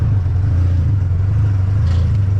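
Porsche car driving, a loud steady low engine drone with road rumble, constant throughout without talk.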